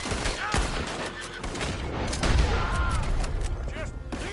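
Gunfight in Red Dead Redemption II, a dense barrage of overlapping shots cracking at varying distances throughout, with shouting voices beneath the firing.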